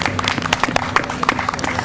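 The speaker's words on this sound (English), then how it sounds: "Can we just give them a round of applause just in case we do have a few here?" Audience applause at a gymnasium grand reopening ceremony: scattered, uneven claps from a crowd, moderately faint and brief, with some voices under them.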